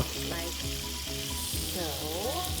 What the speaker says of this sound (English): And I will put it in the frying pan like